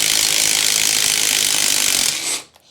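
A bearing puller ratchets on a car's front hub during a bearing removal, giving a loud, continuous mechanical grinding rattle that stops abruptly near the end.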